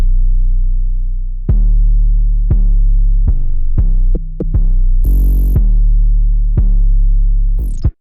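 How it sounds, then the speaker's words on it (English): Deep 808 bass hits in a hard trap beat, a bouncing pattern of booming, sustained low notes with sharp attacks, loud and alone in the mix. "where there's nothing really playing, and all the 808s together sound like this."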